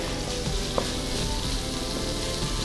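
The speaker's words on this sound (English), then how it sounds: "Let that simmer. I'm watching out for the garlic. I don't want it to burn." Garlic fries in a hot pan, giving a steady, close sizzle and crackle with occasional stirring clicks and no talk.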